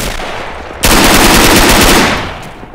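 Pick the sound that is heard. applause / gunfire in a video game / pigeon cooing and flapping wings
gunfire in a video game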